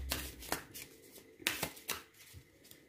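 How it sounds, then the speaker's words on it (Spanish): Tarot cards being drawn from a deck: a few quick papery slides and flicks close by, spaced irregularly and fairly soft, with no talking. "Vamos a sacar cuatro cartas a ver qué nos dice."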